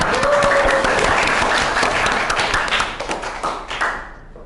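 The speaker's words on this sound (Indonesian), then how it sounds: "Beri tepuk tangan untuk kelompok 2 dan kelompok 1." Audience applause for student groups who have just presented at a teacher-training performance exam in Indonesia, a dense, steady clatter of many hands close by that thins out and tapers into scattered claps toward the end.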